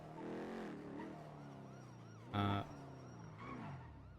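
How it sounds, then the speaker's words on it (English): A video-game siren wails, rising and falling at a distance, faint and wavering, with a short louder electronic blip partway through. "What siren am I hearing?"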